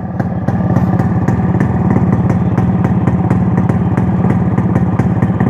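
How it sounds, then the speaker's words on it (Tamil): Motorcycle engine fitted with its original stock muffler, running close and loud with a fast, even thumping exhaust beat and a steady rhythm throughout. "இது வந்து ஒரிஜினல் மஃப்ளரு, நம்ம சைலன்சர் டூமில் போட்டாச்சு. ஸ்டார்ட் பண்ணுறாரு."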